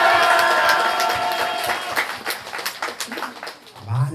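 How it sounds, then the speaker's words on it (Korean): A crowd at a Buddha's Birthday dharma service lets out a sustained shout, then breaks into brisk clapping that grows denser and louder. "여러분들의 밝은 미래와 건강을 위해서 함성과 함께 큰 박수 보내주십니다."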